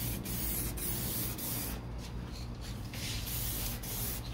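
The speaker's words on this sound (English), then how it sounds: "So we'll go ahead and just put a little spray right there." A spray gun hisses steadily while painting the passenger door of a 1969 C3 Corvette, a close, continuous airy spray with slight shifts as the stroke moves.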